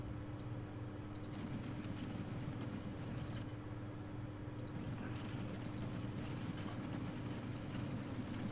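A train rolls along steadily in the Transport Fever video game, a constant low rumble with faint, periodic clicking ticks layered above it, with no one talking.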